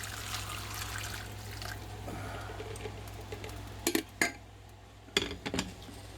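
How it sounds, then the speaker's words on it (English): Hot water trickles from a pot over ham and bean soup ingredients under a low steady hum, and a few clanking knocks of the pot come near the end. "I'll just pour this hot water over the top of everything"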